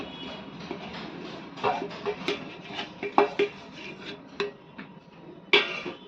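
Spoon stirring roasted flour into sugar syrup in a pan for laddoo, a series of light clinks and scrapes in an uneven rhythm, close and moderately loud.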